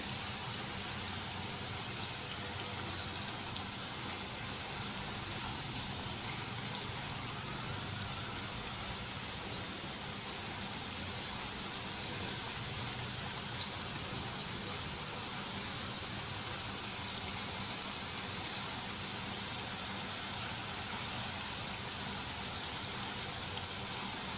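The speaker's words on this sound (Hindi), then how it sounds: "ऐसे साइडें तब्दील करते हुए इसको घुमाते हुए फ्राई करें ताकि हर तरफ से अच्छा गोल्डन सा फ्राई हो जाए।" Potato snacks deep-frying in oil, a dense, even hiss and crackle like steady rain, continuous and close for the whole clip with no talking.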